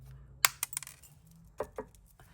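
Wire cutters snip jewelry wire in a quiet setting, giving a few sharp, close metallic clicks: a cluster of snaps near the start and two more later.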